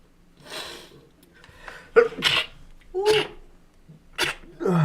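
Several short, sharp bursts of breathy noise, likely sneezes, spread across a few seconds with faint background sound between them.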